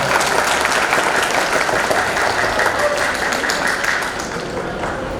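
An audience at a divyang raas garba festival applauds together, a loud sustained wash of clapping that fades slightly toward the end.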